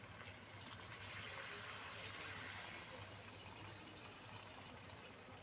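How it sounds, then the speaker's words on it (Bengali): Water is poured into a pan of chicken kosha, a soft, steady gushing splash that runs continuously and faintly throughout. "এবার দিয়ে দিচ্ছি আমি পরিমাণ মতো জল।"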